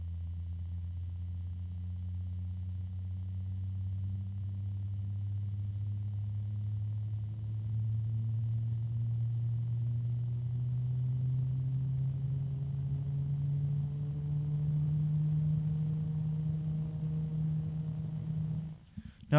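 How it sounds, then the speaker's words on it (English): Large computer cooling fans give off a steady, smooth hum whose pitch slowly rises as the fans spin up, holding a constant moderate level for almost twenty seconds before a brief knock at the end. "There's a little hum coming in from now."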